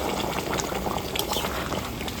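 Hot water poured into a pot of cooking kala mutton kosha, a dense continuous rushing and bubbling gush that stays loud and even for a couple of seconds.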